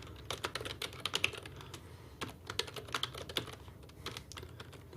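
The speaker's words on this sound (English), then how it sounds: "Sorry, I can't center while I'm typing" Rapid typing on a computer keyboard, with steady clusters of sharp key clicks close by over a low background hum, continuing for several seconds with no voices.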